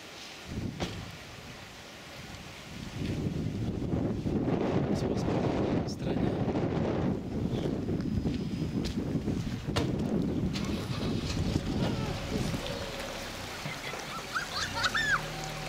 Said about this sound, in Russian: Ветер, кстати, не стихает.